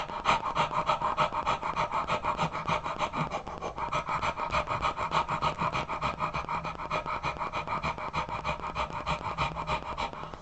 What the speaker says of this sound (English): Breath of fire is just simply a breath rhythm faster than normal.